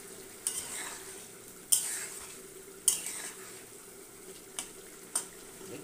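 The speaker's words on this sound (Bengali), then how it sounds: "এবার মাছগুলো দিয়ে দিয়ে এটাকে একটু ভালো করে নাড়িয়ে দেবো।" Fish is stirred into a frying spice paste in a pan, with a soft steady sizzle under a few sharp scrapes and clinks from a utensil against the pan.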